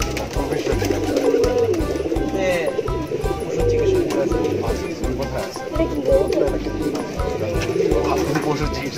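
Pigeons coo repeatedly at a Bangla pigeon farm in Matlab, low and close, mixed under steady conversation between people throughout.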